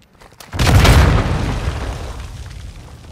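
An RPG round explodes in the video game The Blackout Club: a single loud, deep blast that booms up sharply and then rumbles away slowly.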